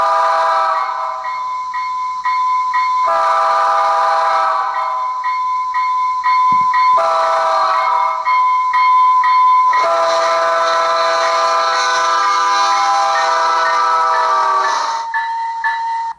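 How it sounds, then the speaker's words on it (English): A Rapido F40PH-2D model locomotive sounds its Doppler horn in long sustained multi-tone blasts, broken by brief gaps and growing fuller and louder toward the end, with no voices. "I get a Doppler horn and F3."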